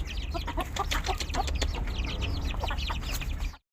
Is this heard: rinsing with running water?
no